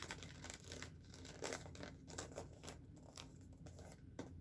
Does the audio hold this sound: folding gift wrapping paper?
yes